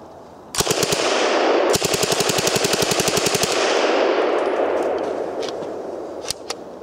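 A VZ-26 submachine gun chambered in 7.62x25 fires nearby in two fast automatic bursts, a short one and then a long one, each shot sharp and loud, followed by a few scattered shots as the echo fades.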